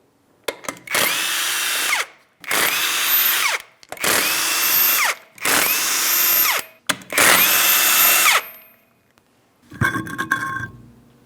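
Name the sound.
power tool removing 21mm lug nuts, Ford Transit wheel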